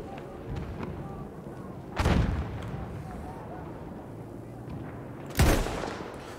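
Gunfire in the video game Battlefield 1: two heavy, booming shots about three seconds apart, loud and close, standing out over a steady rumbling battlefield background.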